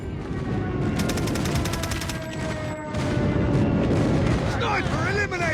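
Airstrike explosions in a 10v10 team deathmatch video game on the Hovec Sawmill map: loud, continuous booming blasts mixed with rapid gunfire bursts, forming a dense, close battle roar throughout.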